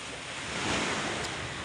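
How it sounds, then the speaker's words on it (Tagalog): Ocean waves wash in at the seaside, a brief close broadband surf rush swelling slightly in the middle, mixed with wind buffeting the microphone and no voices. "nandito nga tayo sa tabing dagat"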